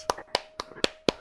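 Five sharp hand claps in a quick, even rhythm over about a second, close and crisp against a faint background tone.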